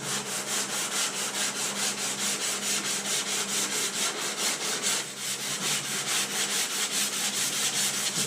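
Hand block sanding of a thick layer of body filler with 120 grit sandpaper, steady rhythmic rasping strokes close up, continuous and loud with no talking.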